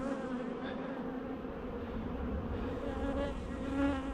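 A dense, steady drone of many bees buzzing inside an opened hive, close and continuous with a slight swell near the end and no talking.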